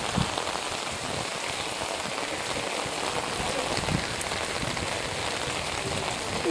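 Heavy morning rain pours down steadily on surfaces outdoors, a dense, even hiss that continues without a break and with no voices.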